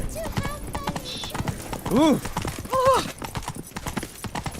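The horse Roach gallops in The Witcher 3 with steady rhythmic hoofbeats, while a horse neighs and whinnies twice in the middle. Game dialogue plays over the top.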